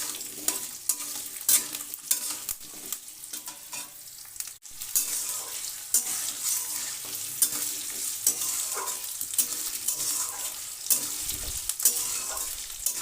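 Cut, washed potatoes stirred as they fry in a pan for a mixed-vegetable chhokka, a steady sizzle broken by repeated scraping strokes of the spoon, close and fairly loud, with no talking.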